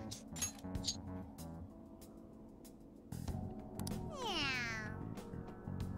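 A synthetic cat meows a few times over steady game music in Persona 5 Strikers, with glassy chimes and a bright rising sweep near the end.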